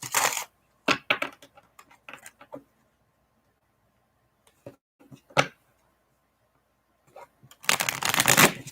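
Tarot cards being shuffled by hand for a reading, with bursts of riffling and flicking at the start and end and scattered card snaps between quiet gaps, close and fairly loud, with no talk.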